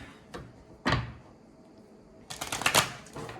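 Tarot cards being shuffled indoors, a few quiet bursts of riffling and card slaps, close and faint, with short pauses between.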